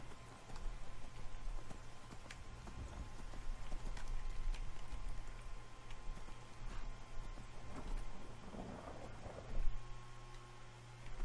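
Horse galloping in the Skyrim video game with mods, a steady run of clip-clop hoofbeats at moderate level over a constant low game hum, with a brief louder burst near the end.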